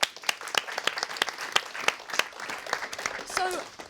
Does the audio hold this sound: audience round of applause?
yes